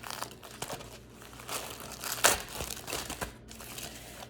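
Gift package being opened with scissors, with crinkling and tearing of packaging in an uneven run of rustles and crunches, one louder burst midway, close and with no talk.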